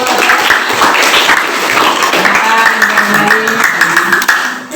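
A class of students applauds in a school classroom, with dense, loud clapping that goes on for several seconds and trails off at the end.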